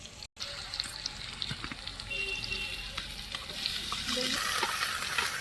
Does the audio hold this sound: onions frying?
yes